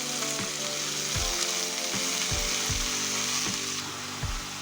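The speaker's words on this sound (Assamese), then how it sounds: "পিঁয়াজটো ফ্ৰাই হোৱাৰ পিছত মই ধুনীয়াকৈ মূলাখিনি মই দি দিলোঁ অলপ অলপকৈ।" Radish greens added a little at a time to a pan of fried onion, hissing in a loud, close sizzle broken by regular low thumps of stirring.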